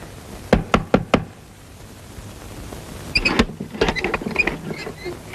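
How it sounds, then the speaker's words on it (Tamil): Knocking on the back door of a house at night: four sharp raps in quick succession, loud and close, followed by fainter scraping and rattling sounds. "யாரு இந்த நேரத்தில் கொல்லப்புற கதவு தட்டுறது?"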